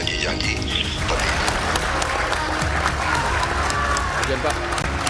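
Representatives of judges applaud steadily and densely for several seconds, a sustained wash of clapping with crowd murmur mixed in.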